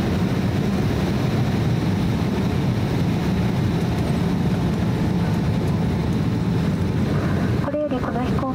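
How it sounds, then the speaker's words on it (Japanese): A Japan Airlines jet airliner, flight 174 from Yamagata, taxis at Haneda Airport. Heard from inside the cabin, it makes a steady, continuous engine rumble and hiss, with brief voices near the end. "これよりこの飛行機は南ウイング6番ゲートまで移動いたします。"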